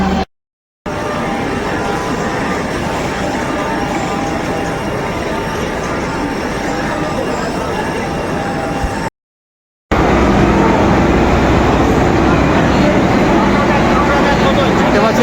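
Train noise fills the stretch, a steady rumbling roar of the Puri–Shalimar Garib Rath Express arriving at a platform, with brief dropouts, growing louder toward the end.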